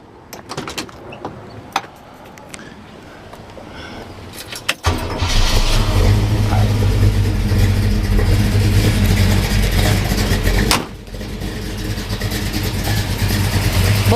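A 1972 Chevrolet K10 4x4 V8 cranks with a few clicks, then fires up and settles into a loud, steady idle with a deep cackle through dual exhaust, a brief blip near the end.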